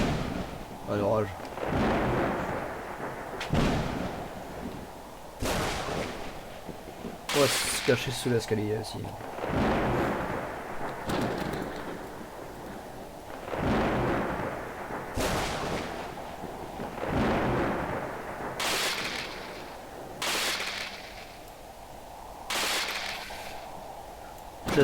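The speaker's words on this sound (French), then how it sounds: "Un orage." Thunderstorm in a survival video game of natural disasters, heavy thunder cracks and rolling booms repeating every few seconds over a rumbling backdrop of wind and rain, with people talking now and then.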